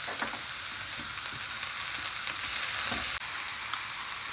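Green chillies fry hard in a pan over high heat, giving a loud, steady broadband sizzle with occasional crackles and a brief scrape of stirring near the end, no voices present.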